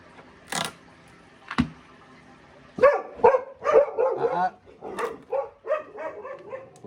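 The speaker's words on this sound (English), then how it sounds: "Bloody dogs." Dogs bark in repeated short bursts, a couple of isolated yaps first and then a denser run of barks and yips, at moderate distance and fairly loud.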